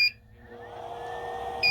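An overloaded 400-watt power inverter struggling to run a fan, its capacitors charging and emptying, makes a short beep, then a droning electronic hum that slowly rises, and the beep returns at the end.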